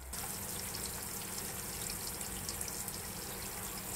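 Water drains out of a rainwater harvesting barrel in a steady, continuous rushing trickle, moderately close and unbroken, with no voices.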